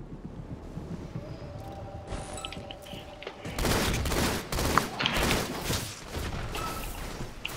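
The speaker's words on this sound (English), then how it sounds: "I'm shooting Brandon" Gunfire in Halo 2: Anniversary team doubles on Shrine, rapid bursts of shots and booms after a quieter stretch with a faint tone, loud and close, continuing in dense volleys.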